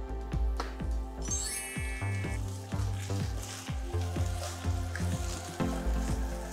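Palm heart sizzles steadily as it sears in a hot frying pan, with occasional soft clinks and scrapes of stirring up close.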